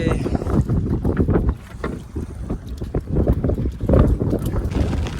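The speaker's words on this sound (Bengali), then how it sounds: "এর ভিতর কিন্তু হাওয়া ঢেউ বৃষ্টি সব উঠে গেছে" Gusty wind buffeting the microphone with sloshing water against a fishing boat, rough and irregular bursts throughout.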